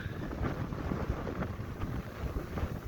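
Wind blows outdoors with a continuous low rumbling buffet across the microphone, gusting unevenly and loud throughout.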